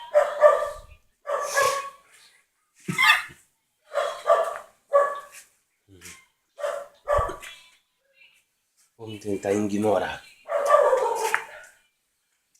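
A dog nearby barks again and again in short, sharp yelps spread across the stretch, with someone briefly talking between the barks.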